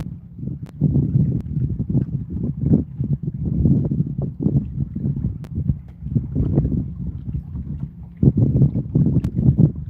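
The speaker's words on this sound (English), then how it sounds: "And the wind is actually picking up, which is good and bad." Outdoors while fishing, wind buffets the microphone in a loud, continuous low rumble with gusty surges throughout, and no talking is heard.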